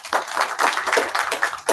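Audience at an international conference on diversity, equity, inclusion and belonging clapping together, a brisk, fairly close round of applause with individual hand claps audible throughout the short burst.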